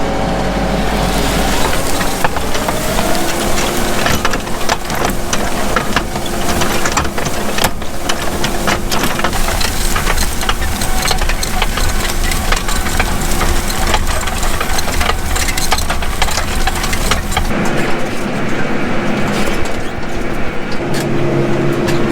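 Four-wheel-drive tractor pulling a plow through a field, a loud, steady diesel drone with a constant mechanical rattle and engine hum, continuous and close throughout.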